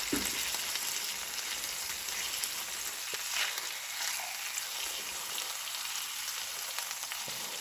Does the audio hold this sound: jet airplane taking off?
no